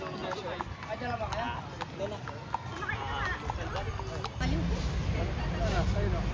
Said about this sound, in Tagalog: Kasi yun yung gumalaw yung kabayo.